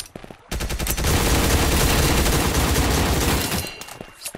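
In the online battle royale game Surviv.io, a dense burst of rapid gunfire rattles for about three seconds after a short lead-in, loud and close, then trails off with a few scattered shots.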